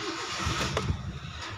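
A Mitsubishi Lancer car engine starting, a brief starter crank followed by the engine catching into a quiet idle, fairly faint and short.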